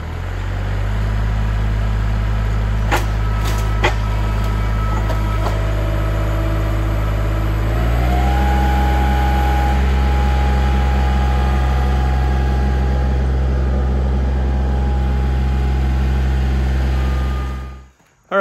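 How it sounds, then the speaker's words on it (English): A tractor engine revs hard while lifting a heavy tote of hickory firewood, a steady loud low drone that steps up in pitch partway through and holds there until the end. "the tractor picked up the tote, no problem. I did have to rev it up, you know, quite a bit"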